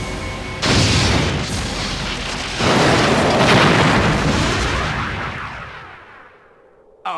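Weapons fire slamming into a starship with shields down in a Star Trek game: two loud booming explosive impacts in quick succession, a long rumbling roar that slowly fades, then a sharp burst at the end.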